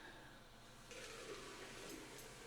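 Liquid poured out in one large gush during an overclocking session, a steady watery rush that starts abruptly partway in and runs on, fairly faint, with no talking.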